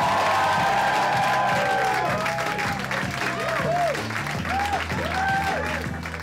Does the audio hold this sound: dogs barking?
no